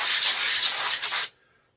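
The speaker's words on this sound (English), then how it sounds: "Spray the top around here too." Compressed air blasts dust off the top of a PlayStation 5 cooling fan, a loud close broadband hiss lasting just over a second before cutting off into silence.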